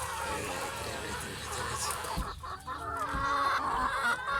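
Chickens and young chicks cluck steadily in a garden coop on a hot day, close and continuous, with a person's voice talking in the background.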